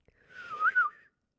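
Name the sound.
person whistling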